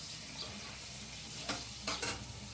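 Steaks fry in a hot oiled pan on a home stove, giving a faint, steady sizzle with a few brief louder crackling spurts.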